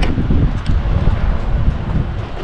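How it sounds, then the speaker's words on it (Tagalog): Strong wind in Madrid, Spain buffets the microphone with loud, continuous low roaring gusts and rustling, no voices heard. "Di ang lakas ng hangin."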